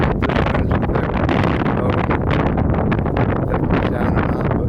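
Strong wind buffeting a microphone at a harbor full of boats, a loud, continuous rumbling roar with gusty surges and no speech.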